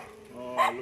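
A single short yip or bark from one of three small stray puppies, faint and close, standing out briefly near the end of a quiet moment.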